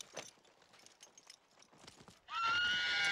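A horse on a western ranch lets out a loud, sustained neigh after several seconds of quiet hoof clatter and shuffling.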